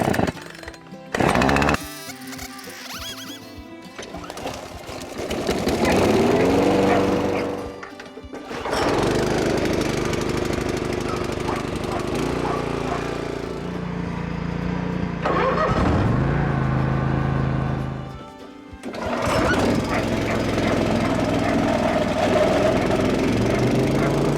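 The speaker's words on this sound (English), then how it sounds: "Start your machinery. Run it for 10 minutes." Small engine equipment such as a lawn mower starting and running, loud close engine chatter and rough idling with revs rising and falling, several brief cutouts and restarts across the stretch.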